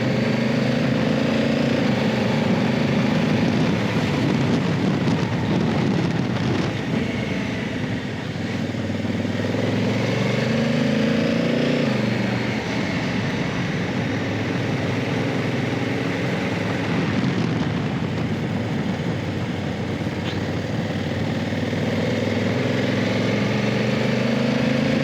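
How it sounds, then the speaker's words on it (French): Motorcycle engine captured by a GoPro-mounted camera on the Col de Jau mountain road, a loud continuous drone with shifting pitch as revs rise and fall, wind buffeting layered over it throughout. "je suis pas sûr que le son du moteur va être récupérable"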